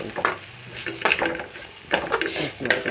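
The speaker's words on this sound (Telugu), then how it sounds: "వెజిటబుల్స్ మొత్తం నేను కలిపేయాలి కలిపేసుకోవాలి" Vegetables for egg fried rice being stirred in a pan with soy sauce, sizzling under repeated clattering scrapes of a utensil against the pan at an irregular rhythm.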